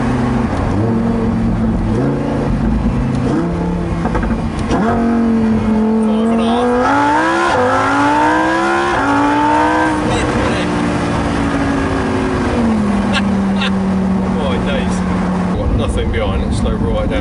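Lamborghini Huracan Performante Spyder engine floored from low revs, pitch climbing steeply as it accelerates hard, then easing back down; loud and close, with someone talking over it throughout.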